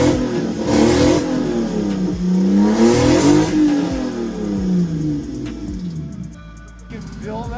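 The 2JZ inline-six in a Lexus GS300 revs up and down in repeated pulls, its engine note rising and falling loudly and close by, with a voice talking over it.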